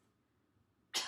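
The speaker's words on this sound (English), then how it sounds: "can you just give me a nice big cough?" A single short, sharp cough from a patient during a respiratory assessment for emphysema comes abruptly near the end after near silence, close and fairly loud.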